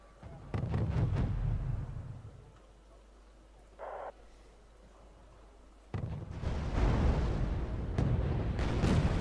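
Artillery fire in the war strategy game Wargame Red Dragon, with deep booming blasts and rumbling impacts in two heavy bursts separated by a quieter stretch.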